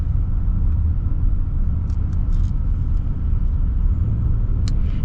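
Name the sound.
diesel pickup truck engine driving under load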